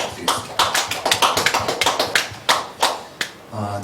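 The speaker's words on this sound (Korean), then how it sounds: "우리 격려의 박수, 우리 또 응원의 박수 부탁드리겠습니다" Scattered clapping from a church congregation during a Sunday worship service, a few dozen uneven claps and taps spread across a few seconds, with a brief hum of voices near the end.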